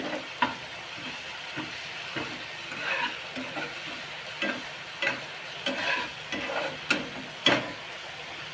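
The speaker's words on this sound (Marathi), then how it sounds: "वाटण चांगला भाजून घ्यायचा" Ground masala paste roasting in a pan for a spiced brinjal dish sizzles and hisses steadily, with repeated scraping stirs and occasional sharper clinks of the spoon against the pan.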